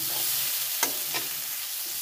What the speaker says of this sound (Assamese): ৰঙালাও ভাজি,